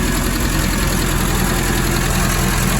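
A 1961 Triumph TR3A engine idles steadily after a carburetor tune, a loud continuous, even mechanical drone close by with no talk over it.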